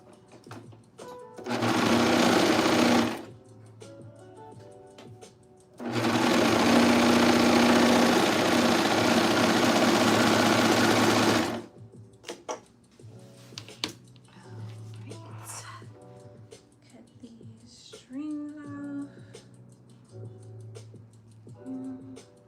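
Two loud bursts of a sewing machine running fast, a short one then a longer stretch of steady whirring stitching, followed by quieter handling sounds.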